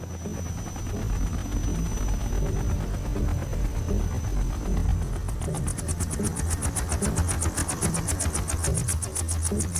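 Shagohod war machine engine in Metal Gear Solid 3, a loud continuous mechanical roar and vibration with a deep low rumble, turning into a rapid pulsing chatter midway.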